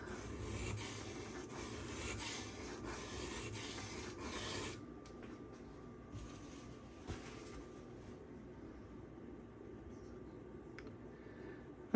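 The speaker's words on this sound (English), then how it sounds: "going to use my silicone carbide stones to get started" A Spyderco Manix knife in CPM 15V steel scraped across silicon carbide stones in close, rasping strokes, loud at first and then softer and sparser after a few seconds.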